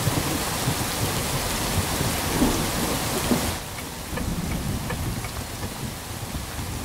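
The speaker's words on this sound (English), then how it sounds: "It's raining heavily." Heavy rain pours down in a dense, steady hiss, easing slightly partway through, with a faint low rumble beneath.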